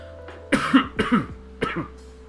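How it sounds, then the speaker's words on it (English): Three quick, loud coughs close to the mic, evenly spaced over a couple of seconds, with a faint steady hum beneath. "Why am I coughing all of a sudden?"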